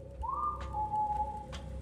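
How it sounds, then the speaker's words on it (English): A single long, thin whistle sounds in the video game Lazaret, sliding up then holding a steady tone for over a second before breaking off, faint against a low ambient hum. "we got to go towards the whistle"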